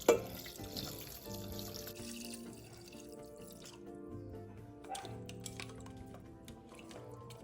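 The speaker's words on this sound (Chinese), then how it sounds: "最后再加入清水600毫升。" Water is poured into a pot of pork ribs for sweet and sour ribs, a soft steady trickling and splashing close by, with faint clinks.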